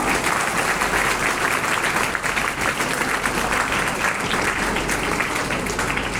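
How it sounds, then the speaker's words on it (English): A large auditorium audience at an Independence Day school event breaks into a full round of applause, a thick, even roar of clapping that holds steady throughout with no talk over it. "So let's all welcome this auspicious day with a big round of applause."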